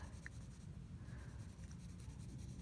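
Pencil coloring in squares on paper during a math lesson, a steady, soft scratchy rubbing that runs on without a break, close and quiet with no talking.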